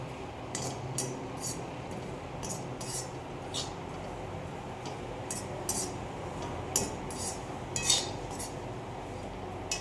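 Dry coconut and whole spices dry-roasting in a pan on a low flame, quick light metallic scrapes and clinks of a spoon against the pan over a soft steady background, close with no talk.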